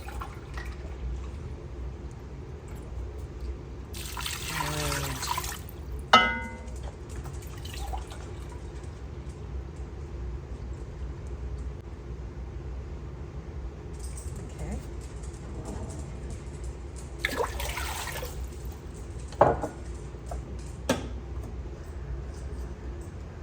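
Water splashes and pours into a pot of elderberries in two short bursts, with a few drips in between over a quiet room background.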